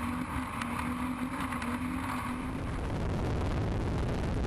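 Offshore powerboats roaring off the start of a Sicily Ocean Grand Prix race, a loud, steady engine drone with a low hum that grows into a broad rushing roar of engines and spray.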